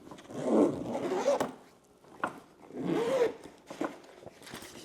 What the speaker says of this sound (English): And then let's unzip the whole thing.